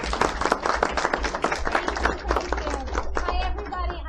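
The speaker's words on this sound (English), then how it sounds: "We got a clap for you." A small audience claps at a Barnes & Noble book signing in Clearwater, a close, uneven patter of individual hand claps mixed with murmuring voices, steady and moderately loud throughout.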